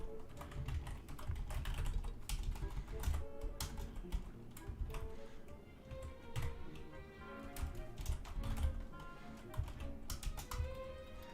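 Typing on a computer keyboard while programming a game: fast, irregular clusters of close, crisp key clicks and taps continue throughout, with brief pauses between bursts and no talking.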